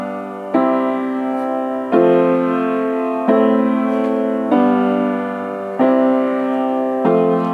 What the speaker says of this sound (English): if I play a chord progression on the piano and just keep doing it over and over